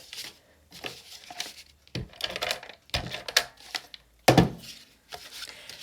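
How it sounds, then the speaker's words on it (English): Close, crisp tape handling on a pop-up card page, with tearing and sticking crackles in uneven bursts and a sharp louder press near the end. "I'm going to apply my tape there and here."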